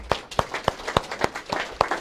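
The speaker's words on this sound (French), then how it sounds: "On applaudit Benoît." Steady, evenly spaced hand claps, about four per second, fairly faint and close, with no voices.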